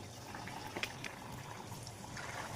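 Papad fries in hot oil in a kadai, giving a faint, steady sizzle with a few soft pops and crackles.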